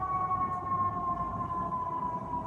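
A steady wailing siren sounds continuously at a moderate distance, holding a sustained tone over low rumbling background noise.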